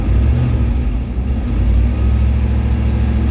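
A Chevy 350 V8 with low oil pressure drones loudly close by on a hot, muggy day, a steady low rumble that dips slightly then swells as it is revved and climbs.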